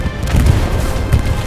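A tank explodes in a video game with a loud, close, rumbling boom that rolls on into crackling debris and a second heavy thump.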